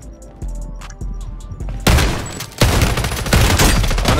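Rapid bursts of close-range gunfire from a Fortnite-style shooter using WSP Stingers, loud sharp volleys that thicken into dense sustained firing after a quieter opening with a few isolated shots.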